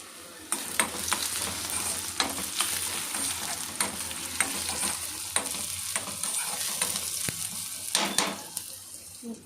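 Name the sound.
tomato pieces frying in a pan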